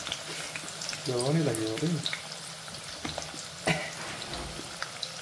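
Onions dropped into well-heated oil set off a steady, moderate sizzle and crackle, heard close up, while a voice speaks briefly over the frying.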